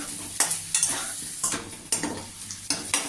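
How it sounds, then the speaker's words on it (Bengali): Taro pieces frying in oil over high heat with a soft sizzle, broken by repeated scraping clinks of a spatula stirring against the pan at an uneven pace. "কচুটা আমি একটু লাল লাল করে ভেজে নেব বড় করে আগুন দিয়ে"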